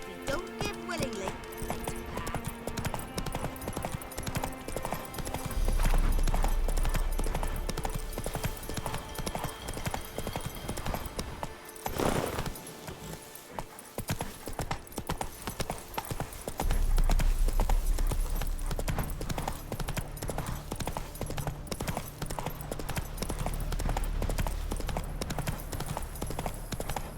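Roach, the horse in The Witcher game, gallops with rapid rhythmic hoofbeats over a layered game score, the clip-clop steady throughout with a brief pause near the middle.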